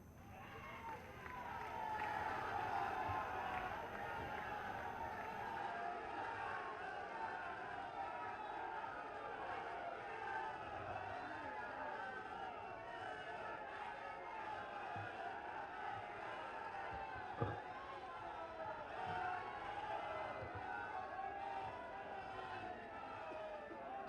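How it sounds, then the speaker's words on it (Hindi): A large crowd at an official public event in Lucknow fills the air with sustained applause and cheering, a continuous distant roar with scattered whoops and murmuring voices throughout. "आप सबकी जोरदार तालियों के साथ"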